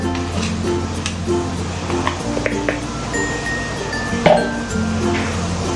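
A spoon stirs broth in a cooking pot, giving light metallic clinks and scrapes against the pot's sides over a low background hum, with no talking.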